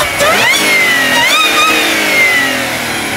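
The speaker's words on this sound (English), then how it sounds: "I would assume it's super loud with the whine, if you guys want to hear it right now" An Audi A7 with a cold air intake revs hard, the engine note climbing and falling loudly while a whine rises and settles above it, close and continuous.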